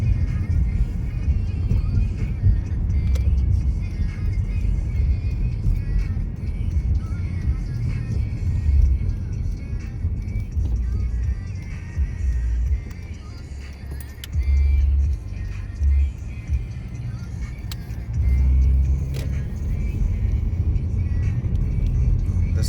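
A car travels on the Interstate 94 East highway, giving a continuous low road rumble and engine drone with bumps and rattles from a rough surface, steady and moderately loud, no talking.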